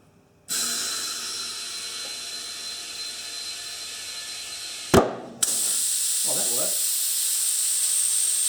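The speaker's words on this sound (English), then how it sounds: "you need to get the air in there pretty fast to get the bead to seat" Compressed air rushes into a tire to seat the bead, a steady loud hiss running about four and a half seconds, broken by a sharp pop, then a second sustained blast of air.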